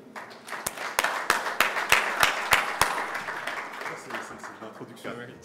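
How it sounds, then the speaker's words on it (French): Conference audience at a finance master class applauding to welcome a speaker, with several sharp loud claps up front over a spread of steady clapping that gradually thins out. "Sous vos applaudissements bien nourris, veuillez accueillir Dieudonné Jimmy."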